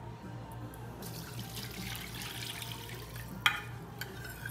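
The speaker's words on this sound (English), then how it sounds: "We're gonna add about 3 cups of water." Water poured into a pan of mixed rice for a one-pan chicken and rice dinner, a steady splashing, running stream heard close up over a low kitchen hum, with a small clink near the end.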